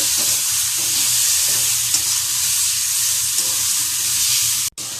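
Cumin powder and Kashmiri chili powder fry in a hot pan, giving a loud, dense, continuous sizzle close to the mic. Soft stirring runs under it, and a sharp knock comes near the end.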